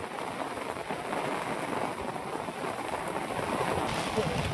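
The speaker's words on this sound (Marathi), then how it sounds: "यो पाऊस किती आला आता" Heavy rain falling during outdoor fishing, a steady dense hiss of downpour close by, continuous throughout with faint voices in the background.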